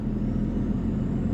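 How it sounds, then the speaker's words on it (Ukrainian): A loaded truck rumbles low and steadily up close as it brakes and comes to a stop, heard on a snowy road. "Вроді стає машина."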